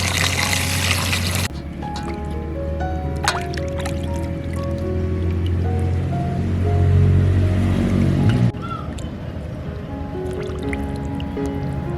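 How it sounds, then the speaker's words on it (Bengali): Sardines being rinsed by hand in water, with close wet squishing, dripping and pouring splashes over a low steady background, ending in quieter handling. "এখন আমি জল দিয়ে মাছগুলো সুন্দর করে ধুয়ে পরিষ্কার করে নেব।"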